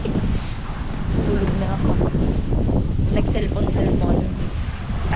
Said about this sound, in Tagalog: Pero sobrang hangin pa, hindi na kami nakaswimming, ang lamig.